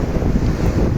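Wind buffets close against the microphone with a steady low roar of sea waves beneath at Sidi Kaouki beach on the Moroccan coast, loud and continuous with no voices.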